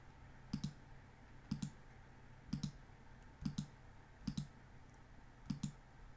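A computer mouse clicks six times at an even pace of about one per second, each press a crisp double tick of button down and release, close and quiet over faint background hiss.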